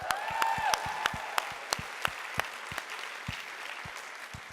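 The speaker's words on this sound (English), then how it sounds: "Let's give them a clap." A conference audience claps at a live event, a steady wash of applause with sharp individual claps standing out, fading gradually toward the end.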